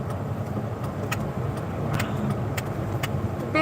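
Big truck rolling slowly through a narrow lane, its engine a steady mid-range rumble with light road noise and a few faint ticks and clicks on top, close and constant throughout.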